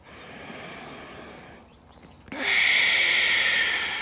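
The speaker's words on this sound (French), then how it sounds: "Des respirations ujjayi, des respirations fluides." Ujjayi breathing during a vinyasa yoga flow: soft breath at first, then a loud, steady, close oceanic hiss of exhaled air that carries to the end.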